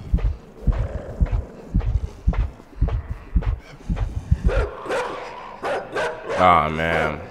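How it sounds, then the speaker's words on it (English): A dog barking in the video game INSIDE, a run of rhythmic, thumping barks under an excited player's voice, ending in a burst of louder game sounds. "They got the dog over there."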